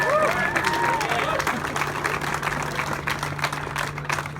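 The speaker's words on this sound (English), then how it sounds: "Give that man a round of applause." A room full of bidders at a live car auction for a Porsche 911 rally car breaks into applause, dense clapping with some cheering and crowd hubbub, a voice calling over it at first.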